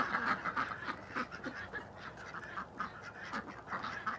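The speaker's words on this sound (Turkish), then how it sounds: "Canlı yayında ördeklerimizi yemliyoruz" Farm ducks honk and quack in a busy, overlapping flock while being fed grain mixed with some egg feed on a very cold day, calls rising and falling continuously at moderate distance.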